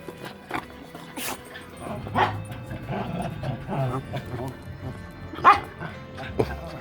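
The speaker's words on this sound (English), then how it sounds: "Oh, dogs are jumping on me." Several dogs whimpering and yipping close by while jumping on a person, short excited bursts scattered over someone talking to them.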